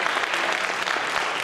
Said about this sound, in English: give them all a great big round of applause